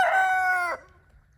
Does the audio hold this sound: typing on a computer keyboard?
no